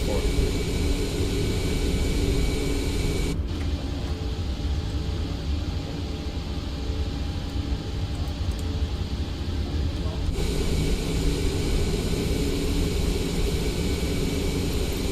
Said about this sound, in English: let's turn on our APU. Let's wait for that to spool up.